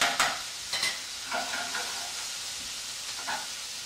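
Shrimp frying over high heat in a pan for shrimp fra diavolo, a continuous close sizzle with a few brief scrapes and bursts as they are turned, and no voices.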